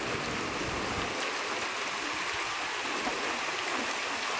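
Steady rain falling on green plants and grass, a dense, even hiss that stays constant and fairly loud throughout, with no voices.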